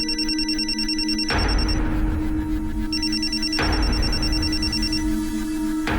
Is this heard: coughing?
no